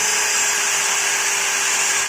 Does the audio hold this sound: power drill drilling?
yes